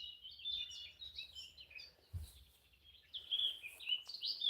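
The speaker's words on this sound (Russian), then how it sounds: "ну так громко, птички" Small birds sing high, twittering phrases in a forest, fairly faint against a low background rumble, with a brief thump partway through.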